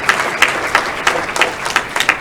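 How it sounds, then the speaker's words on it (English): Audience at a university fall graduation ceremony applauding a doctoral graduate, a steady crowd clapping with irregular louder bursts, fairly close and without talk. "can we give Elizabeth Huggins a hand for the doctoral of education?"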